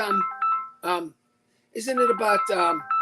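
A mobile phone ringing nearby, a bright, melodic electronic ringtone in short repeating phrases, loud and close, with a brief pause partway through.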